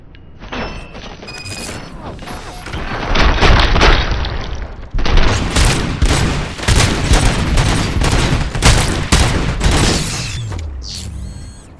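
Loud, dense gunfire in the RoboCop: Rogue City shooter game, rapid bursts and booming shots packed together for several seconds, mixed with mechanical clanks and shattering debris, ending abruptly.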